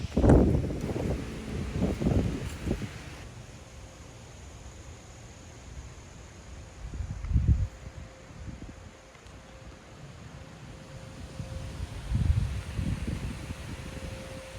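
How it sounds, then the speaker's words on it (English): Gusty wind on a blustery autumn morning in the English countryside, a steady rushing noise buffeting the microphone with a few stronger low gusts, and no voices. "Beautiful blustery morning."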